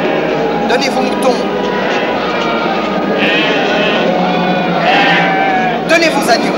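Several sheep bleat repeatedly close by, overlapping calls rising above a busy background of movement, with people speaking over them.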